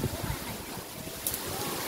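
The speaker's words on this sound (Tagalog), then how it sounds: "Maalon, grabe ang alon nila." Strong, rough sea waves churn along a provincial coast, a constant rushing wash blended with heavy wind buffeting the microphone, loud and close without a break.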